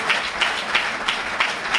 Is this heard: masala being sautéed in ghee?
no